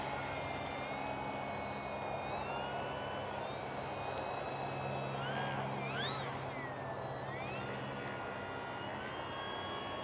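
Durafly Tundra RC airplane fitted with floats taking off from water, its electric motor whining steadily and fairly faint, rising and bending in pitch as it climbs away, with no voices.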